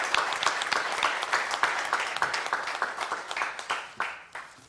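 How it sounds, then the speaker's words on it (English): Audience applause at the close of an international academic conference session, dense steady clapping from a crowd that holds for several seconds and thins out toward the end. "big round of applause"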